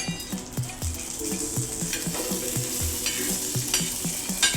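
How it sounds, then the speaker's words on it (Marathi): Green chillies roast in hot oil in a pan for a village-style thecha, crackling and sizzling steadily while a utensil knocks against the pan in a quick, regular stirring rhythm. "तेल टाकून अशा प्रकारे भाजून घ्यायची अशा प्रकारे भाजून घ्यायची"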